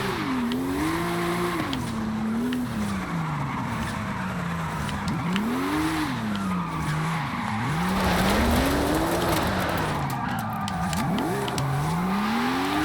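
A Volkswagen, likely a Beetle or Golf GTI with an AWD drift tune, revs and wails through gear changes in Forza Horizon 5, its engine pitch climbing and dropping repeatedly under steady tire squeal, loud and continuous.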